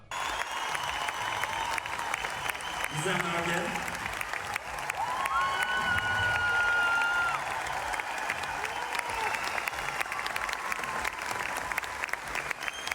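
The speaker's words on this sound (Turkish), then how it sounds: "Eda Erdem ve Gizem Örge'yi böyle alkışlatıyor" Audience at an open-air concert in Harbiye applauds women's national volleyball players, a loud sustained wash of clapping and cheers while a voice speaks over the crowd.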